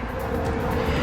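A steady low mechanical hum with a broad airy rush fills the background, continuous and unchanging, like an air conditioner running.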